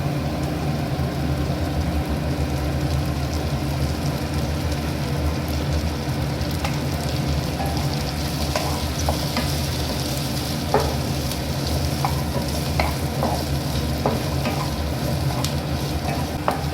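Chopped onions fry in a pan for Gobi Manchurian, giving a steady, close sizzle with scattered crackles and stirring clicks throughout. No one speaks.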